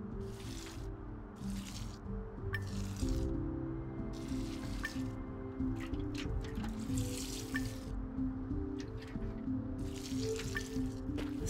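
Plants are watered in the video game Among Trees, with repeated short bursts of pouring and splashing water separated by brief pauses, plus scattered drips and trickles over a low steady hum.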